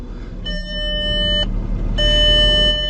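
Two sustained electronic handbrake warning tones, each about a second long, sound inside a VW Passat over a low rumbling engine hum.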